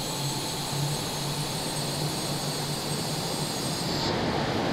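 A fighter jet engine roars at full throttle in Microsoft Flight Simulator, a steady, loud, broad whine and rush with a constant high tone, briefly dulling near the end.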